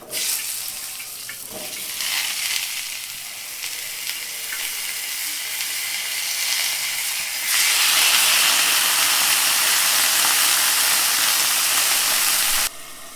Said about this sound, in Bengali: আগে আলোটা ভেজে নেব